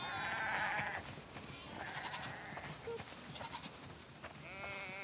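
Sheep bleat in The Last of Us Part II, several overlapping calls near and far amid soft ambient game sound, with faint background activity between the bleats.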